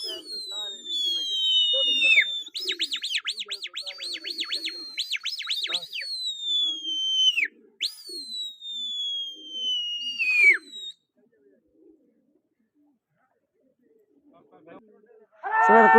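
Birds call in a burst of repeated trilling, warbling notes with long sliding whistles, loud and close, with soft murmured speech beneath, then a quiet gap before a sharp noise at the end.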